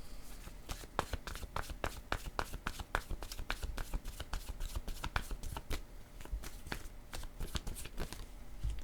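Cards shuffled and handled close up, quiet and steady, with a rapid train of soft riffling snaps running throughout.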